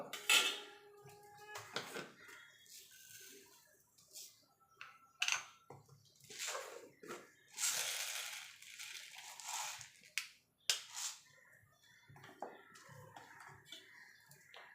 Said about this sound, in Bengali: লঙ্কাটা একটুখানি নাড়াচাড়া করে নেব।